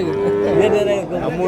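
Hill cattle at a Saturday livestock market in Vaniyambadi give a steady, drawn-out mooing low, loud and close, with crowd noise beneath.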